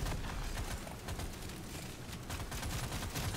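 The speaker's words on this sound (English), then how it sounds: "Hey, what are those fire turrets shooting at?" Fire turrets shoot in the Deep Rock Galactic Survivor video game, a steady, dense crackle of rapid gunfire-like bursts continuing without a break at moderate volume.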